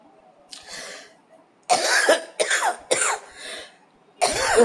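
Several harsh coughs close by, coming in quick bursts with short gaps, one faint and then four loud, rough ones.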